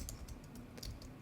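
Keys tapped on a computer keyboard in quick, uneven bursts while code is entered, each keystroke a short crisp click, close and fairly quiet with no voice over it.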